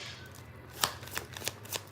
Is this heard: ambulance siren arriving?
no